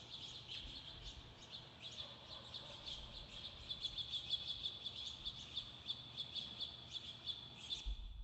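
Repeated high, thin bird chirps ringing with a hard, echoing reverberation in a metal stairwell, a quick series of calls over a low rumbling background.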